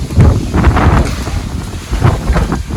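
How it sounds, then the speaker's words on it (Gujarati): Strong storm wind roars and buffets the microphone in loud, continuous gusts, with no voices heard. "વાવાઝોડું ભાઈ ગજબનું છે અત્યારે"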